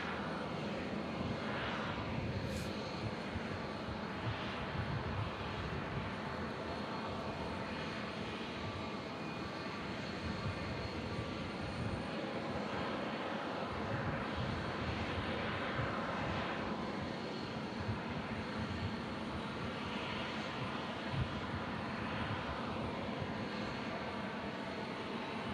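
An Airbus A319 airliner at Omaha's Eppley Field, heard as a steady, distant broadband jet engine roar with a faint whine, holding level for the whole stretch and without any voices.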